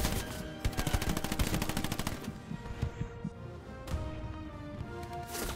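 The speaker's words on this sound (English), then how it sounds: "Machine gun fire" Rapid machine gun bursts in the World War II shooter Hell Let Loose, with rattling fire and scattered gunshots over the battlefield, loud at first and then continuing in sparser, more distant volleys.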